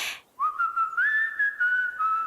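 A person whistles a steady, sustained tune with a few pitch shifts, clear and close, with no talking.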